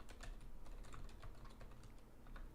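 Fast, continuous typing on a computer keyboard, a steady patter of close, light key clicks with no voices, recorded at a low level.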